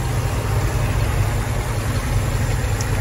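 A 1963 Ford Galaxie 500 convertible idles steadily, its stroked 410 V8 built from a 390 with a Murph crank, aluminum heads and heavy-duty exhaust manifolds, giving a constant low rumble with no voices.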